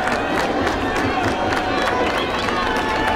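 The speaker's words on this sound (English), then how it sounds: "And a nice round of applause from this hometown audience." Hometown crowd at a San Mateo vs Chabot college football game, cheering and applauding in a broad, steady roar from the stands, with some voices mixed in.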